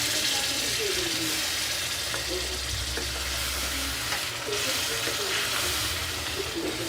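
Chicken frying in a pan hisses and sizzles steadily after a glass of water is poured in, with a continuous bubbling crackle at moderate volume and faint clinks of stirring.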